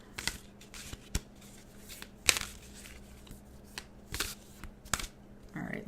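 Tarot cards being shuffled by hand, a series of crisp riffling bursts and soft slides at close range, fairly quiet with irregular pauses between shuffles.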